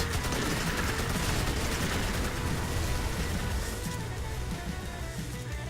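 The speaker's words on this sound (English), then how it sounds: "there are a lot of guns in this" Rapid automatic gunfire in the video game Magicka: Vietnam, a dense burst of fusillade-like shots rattling continuously and fairly loud, with no voices over it.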